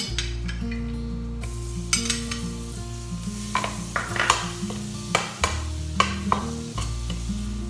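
Butter sizzling in a Saladmaster 6-quart roaster, a steady fry hiss under repeated metallic stirring clinks and scrapes of a utensil against the pan, with a low hum throughout.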